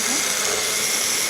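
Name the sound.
blender blending pizza sauce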